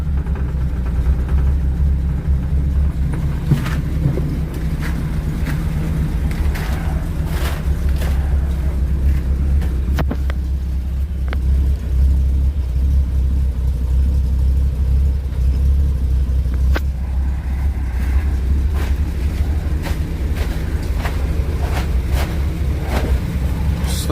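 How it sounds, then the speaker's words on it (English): An old 1957 Chevrolet 210 engine idles steadily and loudly nearby after a cold start with no oil pressure, a low, uneven rumble and occasional clicks and knocks throughout. "See if it'll stay idling."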